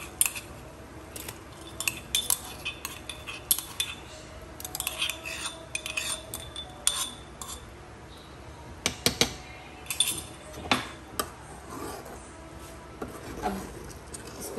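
Utensil stirring food in a pan after dried fenugreek leaves and garlic go in, with repeated clinks and scrapes of metal on metal in an irregular rhythm, close and fairly loud, no talking.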